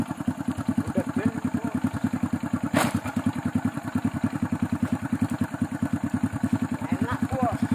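A motorcycle engine idles steadily on an oil palm plantation during harvest, its close, even low-pitched putter pulsing throughout with a brief sharp clatter partway through.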